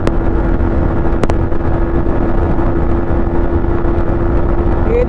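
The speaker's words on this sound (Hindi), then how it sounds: "मैं एक पिलियन को बिठा के MT-15 का टॉप एंड टेस्ट कर रहा हूँ" Yamaha MT-15 motorcycle running flat out at top speed with a pillion aboard, a loud steady engine drone mixed with heavy wind rush, one sharp click partway through.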